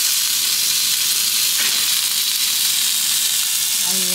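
Chicken parmesan fries in a pan with a loud, constant sizzle and hiss close up, a faint clink of utensils near the end and no speech.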